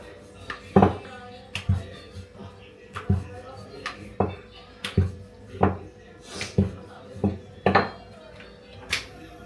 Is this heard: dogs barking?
no